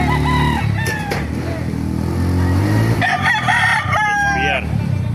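A ten-month-old bulik rooster at a Bocaue market crows twice, loud and close, with other fowl clucking and a low engine hum underneath.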